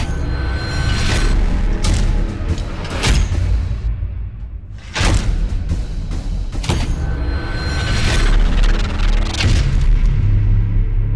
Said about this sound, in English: This is the FARSAN FS0521 Airsoft Double Barrel Shotgun.